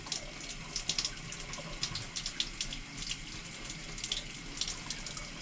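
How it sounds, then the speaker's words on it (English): Running water streams steadily into a clogged paint bucket as it is rinsed out in a paint shop cleanup, a continuous close splashing rush with no voices. "I'm going to rinse it out because it's so clogged up"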